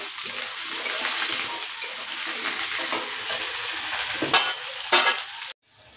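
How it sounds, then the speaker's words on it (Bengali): Potatoes and onions fry together in a pan for a Bengali-style banana flower and prawn ghonto, a steady close sizzle broken by scraping stirs and a few sharp clinks near the end before it cuts off. "আলুগুলো একসঙ্গে ভেজে নেবো।"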